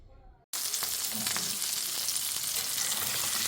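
Fish eggs fry in a pan with a loud, steady sizzle that bursts in after a brief quiet moment and continues unbroken, with faint stirring scrapes mixed in.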